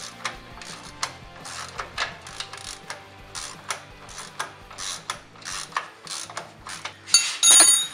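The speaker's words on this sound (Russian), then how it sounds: "гайки стойки мы открутили" Ratcheting wrench clicks and metallic mechanism sounds while loosening suspension strut nuts on a Chevrolet Aveo, a steady series of close, sharp clicks with a louder burst of grinding at the end.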